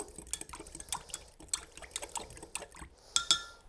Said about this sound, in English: I'm just going to use a fork to whisk this all together.